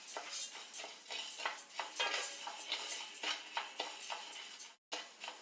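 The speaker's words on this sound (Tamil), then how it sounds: "அரிசி நல்லா வறுபட்டுருச்சு. நல்லா அந்த பொரியிற சத்தம் கேட்குது இல்லையா" Rice dry roasting in a pan, with continuous crackling and popping plus scraping stirring strokes, close and moderately loud, with no talk.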